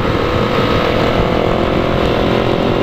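A Honda CB 500 motorcycle engine roars loudly and steadily at close range, with a dense broadband drone that holds constant throughout and no talk over it.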